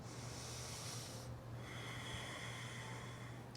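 A slow, steady inhale through the nose during a yoga exercise, a soft airy hiss that rises briefly. It sits close over a low constant hum, with no words spoken.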